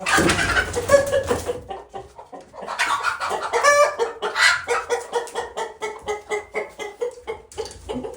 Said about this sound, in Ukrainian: Оце виведені курочки міні м'ясні.